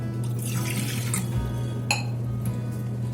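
Half a glass of water is poured into a pressure cooker, a liquid splash and fill with faint metallic clinks over a steady low kitchen hum, close and without speech.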